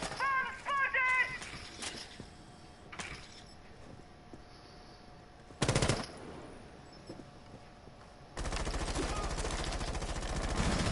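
Rapid automatic gunfire in an esports match of a tactical shooter game, with a short burst early on, a sharp loud volley in the middle and a sustained rattling barrage at the end, separated by quieter in-game ambience.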